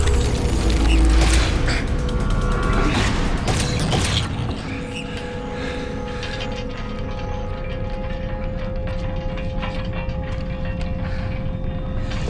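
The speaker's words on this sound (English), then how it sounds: "Nicola, the door!" A heavy mechanical door grinds and creaks open in a loud burst of clanking and rumbling over the first few seconds, then settles into a steady low mechanical hum and rattle.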